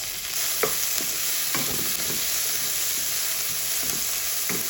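Tomatoes hiss and sizzle steadily in a hot pan with ginger, while a utensil scrapes and stirs in several short, distinct strokes over the constant frying noise.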